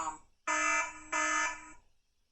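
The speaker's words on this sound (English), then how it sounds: "Burglary alarm." Hikvision AX Pro wireless intruder alarm sounding in a shed during a demo, giving two loud, harsh electronic bursts in quick succession, each roughly half a second long, then falling silent.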